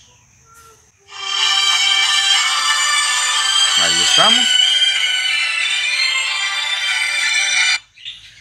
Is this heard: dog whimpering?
no